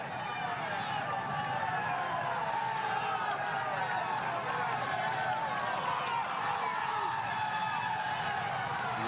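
A large crowd in Utrecht shouting and cheering for Tom Dumoulin at the 2015 Tour de France Stage 1, a dense, steady roar sustained throughout without a break.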